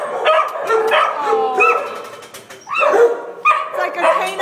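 Several dogs bark and yip inside an animal shelter, with sharp barks recurring through the scene under a person's steady talking, and a whimpery tone in places.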